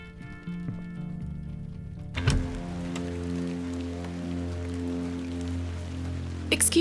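Steady rain falls outside in The Excavation of Hob's Barrow, a soft continuous patter that begins a couple of seconds in and runs under low sustained music tones to the end.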